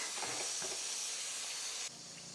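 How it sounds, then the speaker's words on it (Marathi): Brinjals frying in hot oil in a pan give a soft, even hiss and sizzle that drops slightly in level near the end. "वांगे टाकून झाले सगळे आणि मस्त असे तेलात परतून घ्यायचे आधी"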